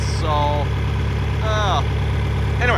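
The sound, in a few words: John Deere 2510 tractor engine running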